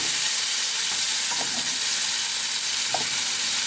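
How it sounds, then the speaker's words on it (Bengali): Grated carrots fry in milk in a kadai over a high flame, giving a steady, close sizzle with soft scraping as they are stirred, plus a couple of faint clinks. "হাইয়ে রেখে এবার গাজরটাকে অনবরত নাড়া দিতে হবে।"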